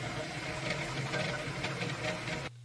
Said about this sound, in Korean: 이 프린터를 조립한 테이블 위에서 첫 프린팅을 하고 있는데요